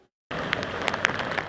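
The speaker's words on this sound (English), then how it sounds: "The slow-moving storm has virtually stalled, dumping relentless rain after making landfall as a Category 1 hurricane." Heavy rain from Hurricane Florence, a slow-moving Category 1 storm stalled over Wilmington, North Carolina, pours down as a steady dense wash with scattered sharper drops and splashes, starting abruptly after a brief silence and continuing loud and close.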